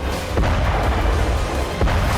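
A loud, deep explosion rumble rolls on continuously, with a couple of sharper blasts breaking through the roar.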